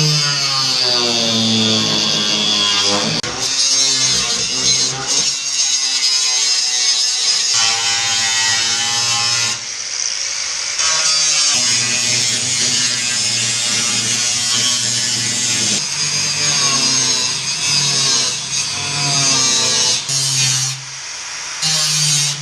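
A power tool cuts out the rusted rear floor pan of a Ford Escort RS Turbo in a garage, a loud, close, buzzing whine that stops and restarts in uneven bursts over about twenty seconds.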